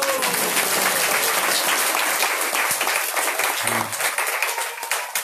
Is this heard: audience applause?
yes